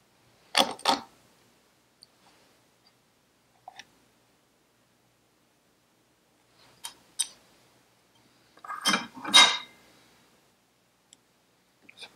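Metal washers come off a Vespa smallframe scooter during a workshop strip-down, giving a few sparse metallic clicks and small clinks separated by near silence, close up.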